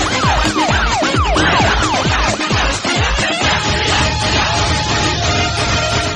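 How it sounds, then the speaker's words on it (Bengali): An ambulance siren wails loud and close, first in rapid rising and falling sweeps, then settling into a steadier high tone over traffic noise. "তো অ্যাম্বুলেন্স।"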